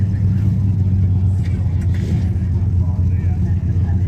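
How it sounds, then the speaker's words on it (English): A Ford GT's engine fires up and idles with a deep, loud rumble at a car rally, with people talking nearby over the steady engine note. "We're going to start in a minute as the Ford GT just fires up."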